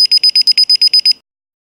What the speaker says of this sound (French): Le clavier émet un bip à 10 reprises